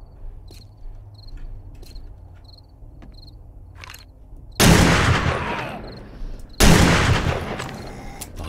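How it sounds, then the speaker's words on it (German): Two sharp, loud gunshots in the video game 7 Days to Die crack out a couple of seconds apart over a quiet background of chirping crickets. "auch noch ein Schuss."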